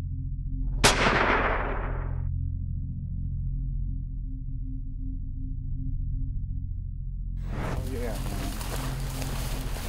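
A single loud rifle shot cracks out on a hunting safari in South Africa, its echo fading over about a second. It gives way to a steady low hum, then a burst of broadband noise that sounds like voices or movement.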